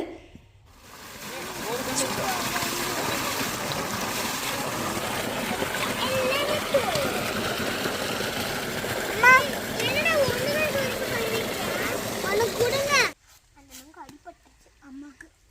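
Water splashing as palm fruits are washed at an outdoor well, a steady wet sloshing and spattering that runs for several seconds before cutting off abruptly.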